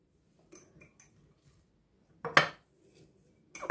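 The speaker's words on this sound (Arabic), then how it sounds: "غادي نحط الحامض في القنينه" Lemons clinking into a glass jar as they are packed for preserving, a few soft taps early on, then two sharper glassy knocks close by.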